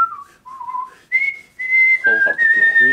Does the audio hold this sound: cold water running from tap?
no